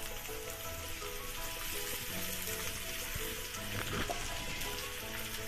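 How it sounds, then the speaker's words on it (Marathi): Sabudana and potato frying and being stirred in a pan give a continuous soft sizzle with occasional scraping, heard close up with no talk. "हा चांगला परतून घ्यायचा।"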